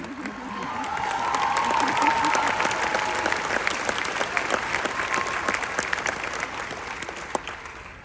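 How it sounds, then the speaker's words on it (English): A large audience at a university graduation ceremony applauds in a steady wash of clapping that swells, holds for several seconds and slowly thins, heard from within the crowd. "All more of you need to applaud for that."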